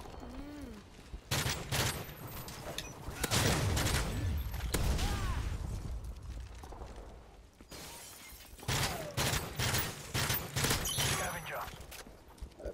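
Video game gunfire in rapid bursts and volleys, loud and close, with short pauses between exchanges; people talk over parts of it.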